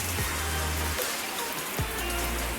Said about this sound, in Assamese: এয়া বৰষুণ পৰিছে